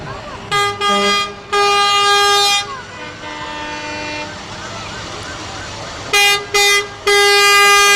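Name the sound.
fire trucks honking horns in a parade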